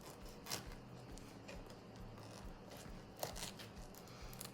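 Scissors snipping through the backs of raw shrimp shells at the first segment while deveining for a Low Country boil, quiet close crisp cuts with two sharper snips amid soft handling noise.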